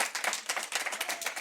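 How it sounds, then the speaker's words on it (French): Live audience applause at a French talk-show recording on digital transformation, a dense burst of many hands clapping close by, steady and lively throughout the short stretch with no voices over it. "Oh, des applaudissements en direct."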